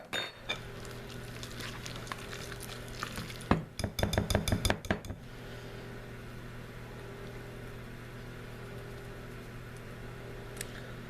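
A whisk works strawberry cheesecake muffin batter in a bowl, giving a quick run of rattling clinks against the bowl's side midway, set between quieter background hum and a few isolated knocks.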